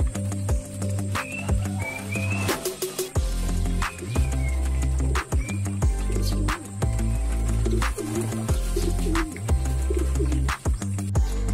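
Taiwan Gold pigeons coo in repeated low, throaty phrases that run almost continuously, close by, with a few faint chirps and rustles in the background.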